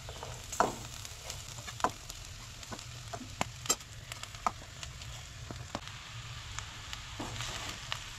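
Grated coconut roasting in a pan for a Goan crab curry gives a soft, steady sizzle with scattered clicks and scraping taps of stirring throughout.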